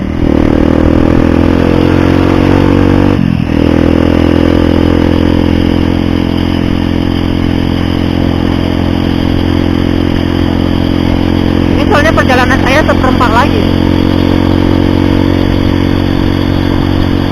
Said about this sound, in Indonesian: Takutnya suara knalpot semua yang kedengaran.